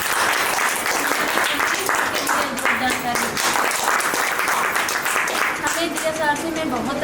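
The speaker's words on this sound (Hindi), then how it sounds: "CMD सर RC सर के लिए जोरदार ताली हो जाए।" Vigorous audience clapping at a franchise opening event in Ayodhya, continuous and loud for the whole stretch, with voices speaking over the applause.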